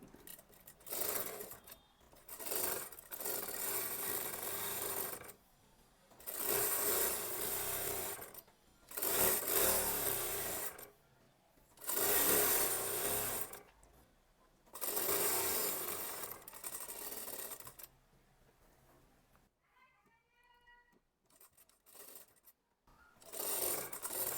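A sewing machine stitches anarkali kurti panels in repeated bursts of whirring, each run lasting a couple of seconds and separated by short pauses, with quiet handling of fabric in the gaps.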